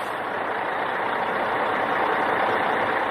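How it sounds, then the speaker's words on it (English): A newly assembled truck's engine runs at a steady idle, a continuous broad rumbling hum that stays even and close throughout with no voices over it. "The engine's going!"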